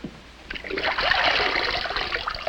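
A hose washing off a Mylar-insulated electric motor contaminated by flood silt and water, a close, steady trickle and spatter of water running for a couple of seconds.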